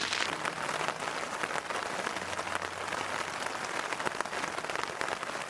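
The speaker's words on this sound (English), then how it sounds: "wait for a break in the rain" Steady rain falls on a tent during a hike on Vancouver Island, a dense, continuous patter of drops drumming close by without any break, with no voices.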